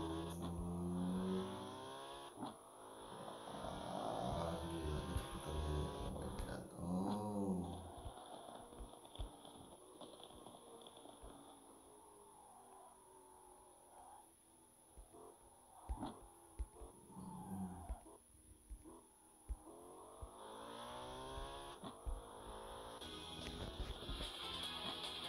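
A white Porsche 918 Spyder with its exhaust fitted is revved in a series of rising and falling throttle blips, some longer swells and short stabs, with quiet gaps between them.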